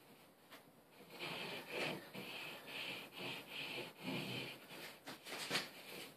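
A paintbrush strokes paint onto the glass of a 46-gallon bowfront aquarium tank, giving soft, close rubbing swishes in repeated back-and-forth passes, each lasting under a second.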